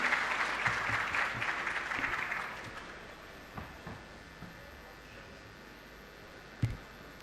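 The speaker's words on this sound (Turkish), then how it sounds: "bu güzel şehrin Aziz İstanbul'un kıymetli valisini Sayın Davut Gül'ü alkışlarınızla kürsüye davet ediyorum" Audience applause at the opening ceremony of Texhibition Istanbul, greeting the Istanbul governor as he comes to the podium; a broad wash of clapping that fades after a few seconds, leaving scattered claps and room noise.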